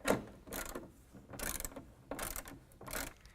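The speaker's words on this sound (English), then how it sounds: "we're going to go ahead and tighten the brackets to the body" Ratchet wrench clicking in four distinct bursts, roughly one every 0.9 seconds, tightening nerf bar bracket bolts against the body of a 2013 Ram 1500, using 19 mm and 17 mm sockets; close, crisp and alone with no talk.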